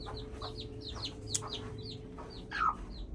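A broody hen clucks in a series of short, repeated calls, fairly close and moderately loud, with a louder, drawn-out squawk near the end over steady low background hum.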